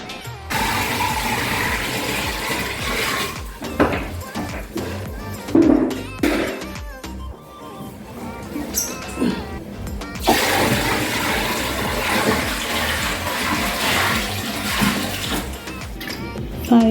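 Water gushes and splashes steadily into the tub of a Hisense 8 kg top-loading washing machine for a long stretch, a loud rushing pour with brief surges and pauses between five buckets.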